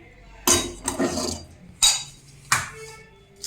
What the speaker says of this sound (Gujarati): હવે આપણે એને કઢાઈને આપણે નીચે ઉતારી લઈશું.